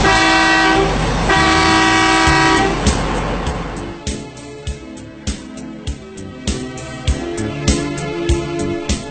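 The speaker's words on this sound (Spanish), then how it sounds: "toque 2 bocinazos, con lo cual indicará que va a ir hacia adelante" A CAT 797 haul truck's horn sounds loud and sustained at a fuel pump area, signalling forward movement, then gives way to a run of rhythmic mechanical clanks and knocks.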